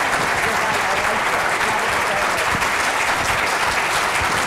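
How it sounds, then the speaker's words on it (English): Loud, sustained applause from a large audience at a university energy innovation event, dense clapping filling the whole stretch without a break. "give a huge thank you round of applause to Chuck, Kateri, and Dick"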